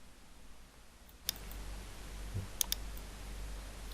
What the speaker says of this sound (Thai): กดเมาส์ปุ่มซ้ายค้างไว้แล้วลากไปปล่อย